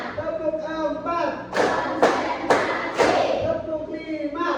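Students in a classroom play the tepuk fokus rhythmic clapping game, slapping out four loud, sharp group claps at a steady beat while a voice talks over and between them.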